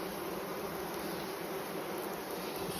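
An angry honeybee colony being split into nucs, a dense, loud continuous buzz of many bees close by, steady throughout with no voices.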